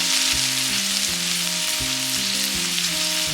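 Onion and green chillies frying in oil for poha, with a loud, steady sizzle and crackle running throughout and a low tonal hum beneath it.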